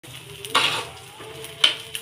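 Dosa batter sizzles on a hot pan in brief bursts of hiss, mixed with clinks of utensils against cookware, fairly close and moderately loud.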